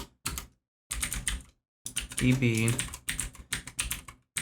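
Typing on a computer keyboard while setting up a Cloud9 environment, heard as short bursts of rapid key clatter mixed in with a man's speech, fairly close.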